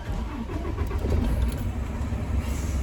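A tractor-trailer truck's engine cranks and catches from inside the cab during an air brake pre-trip inspection, then settles into a loud, steady low idle rumble.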